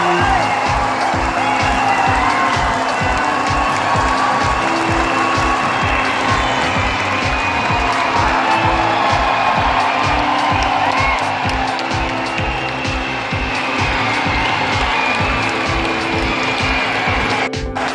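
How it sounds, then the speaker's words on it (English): Crowd at Wankhede Stadium during a cricket match: dense, continuous roar of cheering and rapid clapping from many spectators, loud and steady throughout, with voices mixed into the din. "This is Wankhede Stadium, who was cheering for all the players standing on this end where I was sitting."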